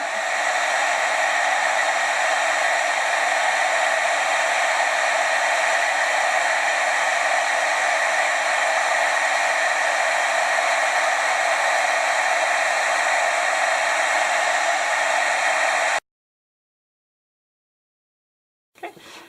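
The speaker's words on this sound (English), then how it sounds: "My embossing heat gun and hold it up there and go ahead and emboss that." An embossing heat gun blows steadily on a stamped ornament, a loud, even rush of hot air that runs for about sixteen seconds, then cuts off abruptly into silence before a brief bump at the end.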